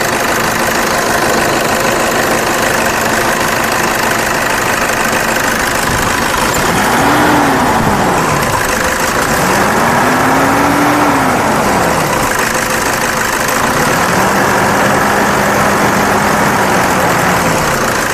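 A 2011 Toyota Innova V with an intercooler engine idles loudly and steadily up close, its dense rumble swelling three times in slow, rising-and-falling surges.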